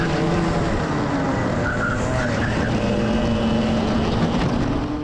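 Racing karts at a Club100 kart meeting, several engines buzzing loudly and continuously close by while drivers overtake, with tire scrub and shifting pitch from multiple machines throughout.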